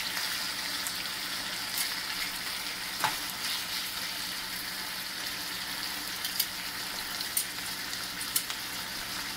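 Chicken thighs frying in a pan give a soft, steady sizzle with occasional faint pops and light clicks scattered through, fairly quiet throughout.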